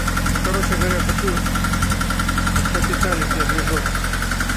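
A car engine idles with a rhythmic knock attributed to a worn piston rocking against the cylinder wall or a loose piston pin, a steady mechanical tapping close by with someone talking over it.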